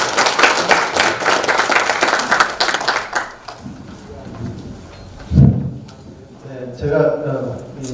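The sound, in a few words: audience applause at an anniversary ceremony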